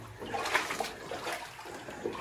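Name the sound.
water flowing out of a flooded abandoned gold mine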